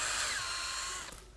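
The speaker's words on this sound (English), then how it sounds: "So you're drilling it out" A power drill drilling out a stripped screw whirs steadily and loudly for about a second, then winds down and stops, leaving a few faint clicks.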